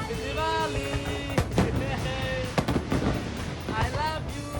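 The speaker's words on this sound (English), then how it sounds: "the two even celebrated Diwali together while watching firecrackers from their hotel room" Diwali fireworks and firecrackers seen from a five-star hotel room: whistling rockets rise and fall while sharp cracks and pops go off irregularly, with voices chattering underneath.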